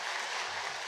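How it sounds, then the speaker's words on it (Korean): A church congregation applauding during a Sunday worship service, a brief, soft, dense burst of clapping from a room full of people. "우리 다 같이 응원의 박수로 함께 해주시기 바랍니다."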